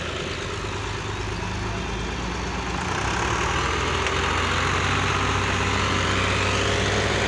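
Heavy engines labour steadily at close range as a tractor pushes a stuck, heavily loaded truck from behind, a continuous low rumble that grows slightly louder after a few seconds, with no talk.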